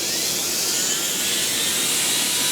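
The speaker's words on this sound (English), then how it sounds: "I'm going to start drilling." An electric drill runs at low speed boring a hole into a piece of stone outdoors on a back step, a steady, continuous grinding whine with a broad gritty hiss, loud and close with no talking.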